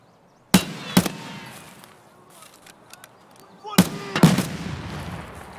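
Gunfire in Escape from Tarkov: two pairs of sharp, loud close shots separated by a few seconds of quiet ambience, followed by faint clatter.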